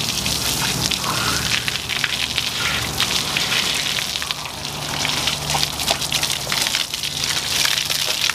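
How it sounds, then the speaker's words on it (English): Water from a hose sprays steadily across a degreaser-coated Ford F-100 truck frame, a dense continuous hiss and patter of spray against metal, loud and close, without pause or talk. "I'm gonna go ahead and wipe it off with the hose"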